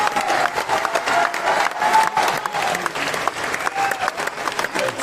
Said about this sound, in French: Alors, il faut l'applaudir très très fort.